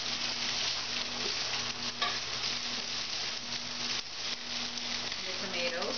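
Garlic and onion sautéing in a pan of corn or palm oil over reduced heat, a steady close sizzle with occasional stirring scrapes throughout.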